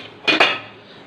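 A metal lid comes off a pot of steamed uppurundai rice-flour dumplings with two quick, close clanks, then a soft fading hiss.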